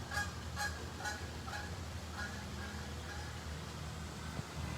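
Geese honking repeatedly as they fly in to land on water, a series of distant calls over a steady low outdoor rumble, with no talking.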